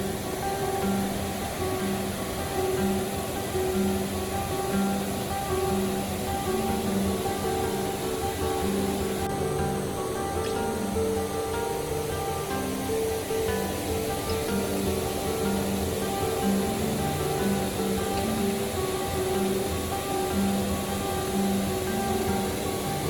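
Dunsinane waterfall, about 100 metres high and running with a strong flow, gives a steady, dense roar of rushing water that fills the whole stretch without letting up, and no voices are heard.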